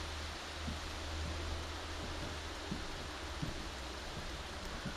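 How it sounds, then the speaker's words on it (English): Heavy rain falls in a forest as an even, continuous hiss of drops, with a soft low rumble beneath. It is distant and fairly quiet, with no voices. "It's raining quite heavy right now."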